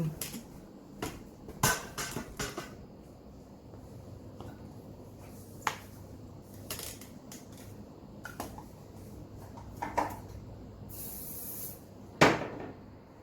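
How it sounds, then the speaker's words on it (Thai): Hair spray misted onto a comb while colouring grey hair, a short hiss near the end among scattered clicks and light handling sounds, close and fairly quiet. "สเปรย์ฉีดหวีหน่อยนึง"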